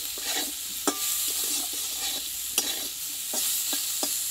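Eggplant frying in a pan with drumstick greens, a steady close sizzle broken by sharp scraping stirs of a spatula against the pan every second or so.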